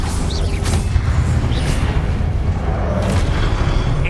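Heavy, rumbling explosion from the Confringo blasting spell in Hogwarts Legacy, a deep continuous boom filling the scene with low roar and debris-like texture, loud and close with no talk over it.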